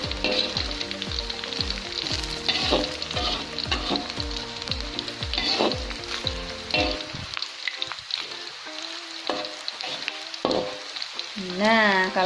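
Shallots and chilies fry in a pan for Sundanese nasi liwet, a steady close sizzle that runs throughout, with tonal sounds in the first half and a brief voice near the end.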